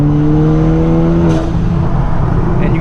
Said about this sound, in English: you guys can hear the turbo just whip